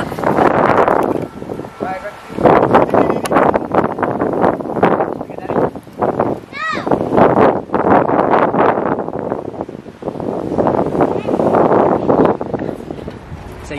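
Strong wind buffets the microphone in heavy rumbling gusts while a person talks through it almost continuously.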